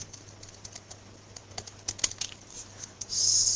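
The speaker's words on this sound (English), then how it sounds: "apparently I can't do small talk while I'm cutting" Blade cutting through a scored paper card, a series of short dry scratchy strokes, quiet and close, ending in a brief sustained rasp.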